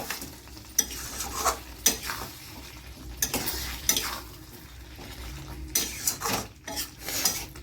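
Mutton being stirred and mixed with homemade desi ghee in a pan: close metal scraping and clinking of a spoon against the pan at irregular intervals over a faint sizzle, with no talk.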